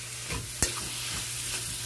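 Squid, tofu, tomatoes and onions sauté in a pan with a continuous low sizzle, broken by a single sharp clack of a utensil against the pan near the start, with fainter stirring scrapes around it.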